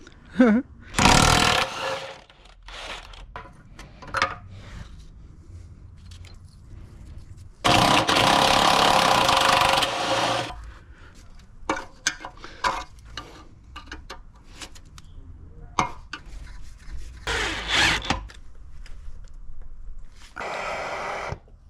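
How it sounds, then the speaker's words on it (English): Attempts to press seized bushes out of a lower control arm from a Honda S2000 subframe, giving bursts of loud hammering and rattling impacts, with a long sustained grinding-like blast in the middle and scattered knocks between, no talking. "I'm going to push all these bushes out."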